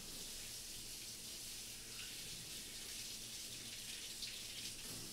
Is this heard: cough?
no